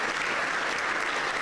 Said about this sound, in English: please give our volunteers a round of applause for the work that they've done